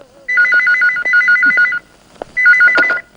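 A telephone rings with repeated electronic trilling bursts, two rings back to back, a short pause, then a third, loud and close with no talk.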